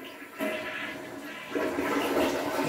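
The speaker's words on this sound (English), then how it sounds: "starts auto flush." A smart toilet in a senior-friendly bathroom auto-flushing on a timer: a rushing water surge that builds and swells louder partway through, steady and close with no talk.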